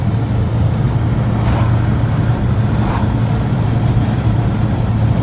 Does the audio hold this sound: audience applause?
no